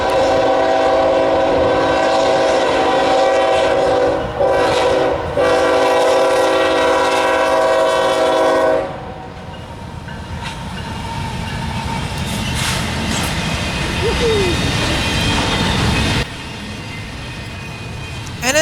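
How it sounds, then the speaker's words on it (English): A short southbound Norfolk Southern intermodal freight train led by GE locomotives, an ES44AC and a C40-8W, sounds a long, loud multi-tone horn blast, then rolls past with rumbling wheels and clatter. "a short southbound intermodal train came by, being led by NS 8030 and"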